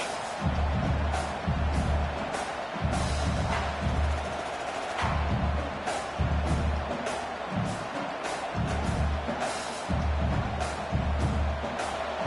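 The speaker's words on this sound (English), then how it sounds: "And here comes the noise. This crowd is trying to inspire this defense to make a big red zone stop." A large American football stadium crowd roars continuously with a broad rumble of noise during a red zone defensive stand, while a commentator talks in bursts over it.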